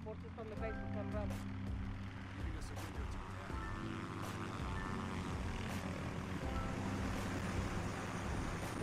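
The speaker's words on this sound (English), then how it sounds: "Barkov is sending in helicopters." Helicopters in the Call of Duty Modern Warfare campaign, a steady loud rotor and engine drone throughout, layered with game music and effects and some speech.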